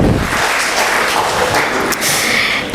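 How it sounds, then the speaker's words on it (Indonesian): Loud, dense applause fills a hall at a legal seminar on arbitration award enforcement in Medan as a guest is called up, a steady crowd roar of many hands with a brief lull near the end. "Tepuk tangan yang meriah"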